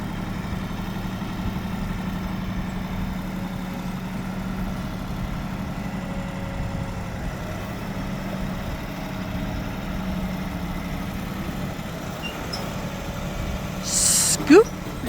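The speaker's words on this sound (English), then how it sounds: "My husband is out here with his tractor." A tractor engine idling steadily outdoors in a garden, a continuous low hum throughout with a brief clatter near the end.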